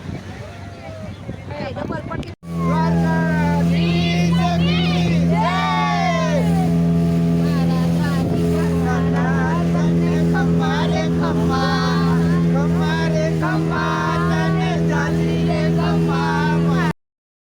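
A boat engine drones steadily with a strong low hum and rushing wind at Bet Dwarka, while voices chatter and call out over it for most of the clip.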